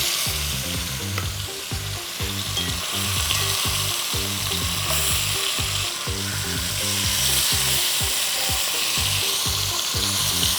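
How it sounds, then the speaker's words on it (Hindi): Mutton searing in a hot pan for Bihari Champaran-style curry: a loud, steady sizzle runs throughout, broken by rhythmic scraping stirs and clunks of a spoon against the pan. "So searing the meat is really important"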